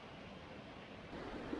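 A high-altitude waterfall at Daocheng Yading produces a faint, steady broadband rush, heard from a distance with some wind noise and no voices.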